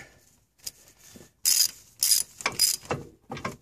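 A ratchet with a 9mm socket works on brake caliper bolts during a front rotor and pad replacement, giving short bursts of rapid metallic clicking separated by pauses, close and fairly loud, with no talking.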